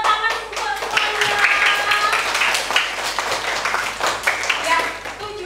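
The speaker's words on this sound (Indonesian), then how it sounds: "Tepuk tangan untuk semuanya." Classroom applause during a coaching-style lesson: a group of hands claps in a brisk, uneven patter that stays fairly close and steady throughout, with voices mixed in.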